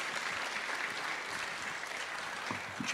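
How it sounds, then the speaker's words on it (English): Audience applause at the Bucharest Forum 2019 conference, steady dense clapping from a seated crowd filling the whole stretch at moderate distance, with no voices over it. "Give him applause."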